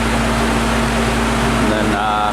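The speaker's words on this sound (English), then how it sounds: "That's a 6 horsepower brewery chiller." A 6-horsepower brewery chiller runs in a warehouse, a loud, steady mechanical hum with a low tonal drone, heard close.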